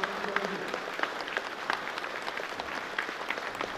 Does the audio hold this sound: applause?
yes